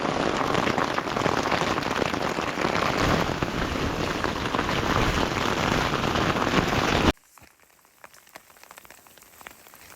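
Heavy rain pours steadily in a dense, loud hiss during a mountain adventure trip in the Pyrenees, then cuts off abruptly, leaving a much quieter background with a few scattered drip-like ticks.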